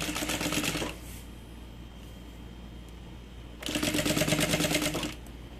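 A sewing machine runs in two bursts of rapid, even stitching along a seam in fabric, with a quieter pause between them while the material is repositioned; close and fairly loud, no voices.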